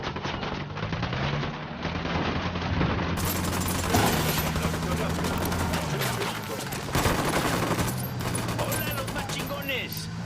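Rapid gunfire from a squad firing on command in Ghost Recon Wildlands, dense overlapping bursts of automatic weapons crackling continuously for ten seconds with a few louder booms, mixed with game voices in the background.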